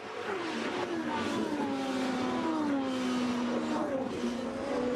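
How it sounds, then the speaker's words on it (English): 2007 Champ Car race cars racing, a continuous loud engine drone with whining pitches that slowly slide downward, heard at a distance. "There's the Sonny's Barbecue car of Junqueira."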